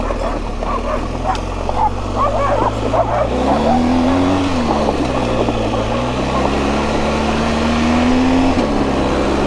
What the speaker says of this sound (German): Vor mir kommt ein Hund.